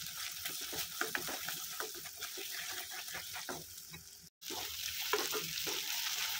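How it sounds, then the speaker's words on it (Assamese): Onion frying in mustard oil with salt and turmeric, a steady close sizzle with soft stirring scrapes, quiet and continuous with a brief break midway. "সৰিয়হৰ তেলৰ সৈতে পিঁয়াজ আৰু নিমখ হালধি লগতে মই ভাজি লৈছোঁ ৰঙচুৱাকৈ"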